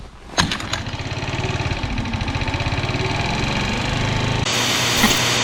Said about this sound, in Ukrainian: А який кайфік заводити олдскульною лапкою?